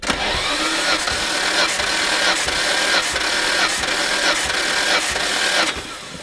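Nissan Skyline GT-R engine, 27 years old, cranking on the starter during a compression test, a steady rhythmic churn of repeated strokes lasting several seconds, loud and close.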